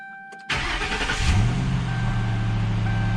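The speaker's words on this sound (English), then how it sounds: "we want to make sure our car starts." Ford Crown Victoria engine cranking and catching after a brief quiet moment, then settling into a steady, close mid-pitched idle hum that fills the rest of the short stretch.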